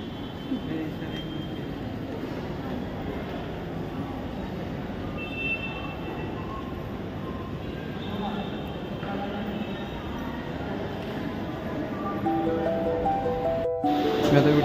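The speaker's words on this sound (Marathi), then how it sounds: "मी आता ट्रेनमधून उतरतो" A train rumbling along the tracks near Mumbai's CSMT (VT) station, a steady continuous roar and rattle heard from inside the carriage for about fifteen seconds, growing slightly louder toward the end, with no voices.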